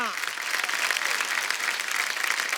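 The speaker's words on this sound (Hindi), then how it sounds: "जोरदार तालियां।" Studio audience on a TV comedy talk show breaks into steady, dense applause that holds evenly loud throughout without any talk over it.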